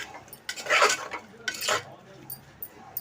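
A spoon scrapes and clinks against a pot while cluster bean curry with salt and turmeric is stirred, two bursts of close stirring with light metallic knocks between, faint talk in the background.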